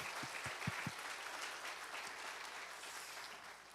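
Applause from a church congregation, a dense patter of clapping that starts fairly strong and gradually fades over a few seconds in a large room.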